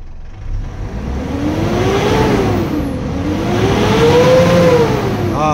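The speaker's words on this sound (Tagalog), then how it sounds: "So ngayon i-try lang muna nating i-rev ang makina." A Mitsubishi Montero engine is revved up toward 4,500 RPM, rising and falling in two long swells of a strong mid-pitched engine note, close and loud, with no talk over it.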